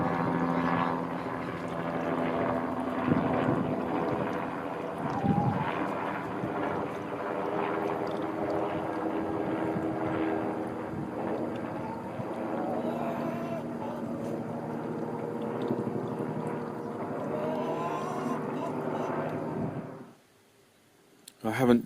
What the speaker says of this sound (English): It's actually a passing helicopter, which you might have seen in the sky.